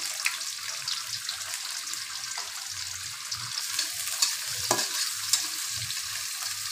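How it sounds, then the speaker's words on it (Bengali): Onions and sliced green chilies sizzle steadily in hot tempering oil in a Bengali home kitchen, a continuous close frying hiss with occasional soft stirring scrapes and pops, no voices. "ফোড়নটা ফুটে এসেছে, এবার আমি দিব কিছুটা পেঁয়াজ"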